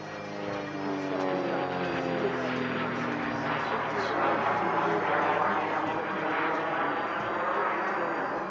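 A Socata TB-30 Epsilon propeller trainer flies at an airshow, its engine drone steady and loud throughout, rising and falling slightly as it passes, with no talk over it.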